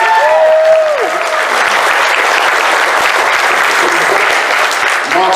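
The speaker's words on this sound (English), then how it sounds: "please give a big round of applause to Mark from Blokees." Audience at a Transformers fan convention applauds steadily as a presenter from the Blokees toy brand is welcomed onto the stage, the dense clapping close and continuous, with a brief tonal sweep near the start.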